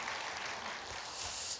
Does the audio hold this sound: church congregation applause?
yes